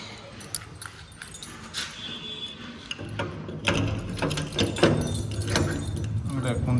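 Keys jangle and clink in a hand while someone searches a large bunch for the basement key of an old shop being emptied, a busy metallic rattling that grows denser and louder in the second half.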